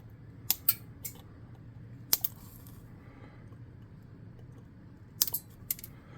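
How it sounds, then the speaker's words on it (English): Scissors snip through craft material while building a tabletop monster figure: a handful of quiet, sharp clicks spaced irregularly over a low, steady room hum, with no voices. "And we'll just snip this off."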